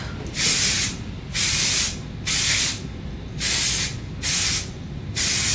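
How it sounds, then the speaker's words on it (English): Six bursts of hair spray hiss from an aerosol can, each about half a second long and evenly spaced, close and loud, no voices. "This is like a texture finishing spray."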